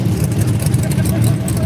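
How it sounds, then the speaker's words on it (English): A Chevy race truck in primer gray under gloss, at the Orangeburg mud bog, roaring with a loud, steady low engine drone. It sits under crowd noise and background voices. "Listen to that race horsepower."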